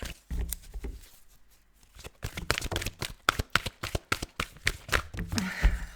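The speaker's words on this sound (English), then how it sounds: "I'm not gonna stop shuffling because there's another card." Tarot cards being shuffled by hand, a dense run of crisp slaps and riffling taps that comes in bursts with short pauses, close and fairly loud.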